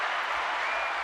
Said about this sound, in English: here's a big round of applause for everybody that submitted